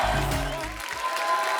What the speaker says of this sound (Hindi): जोरदार तालियां हाडी के लिए